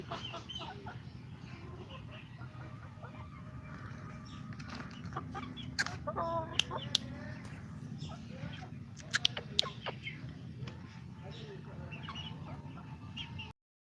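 Chickens clucking nearby outdoors, scattered short clucks over a steady noisy background, with a person talking at times.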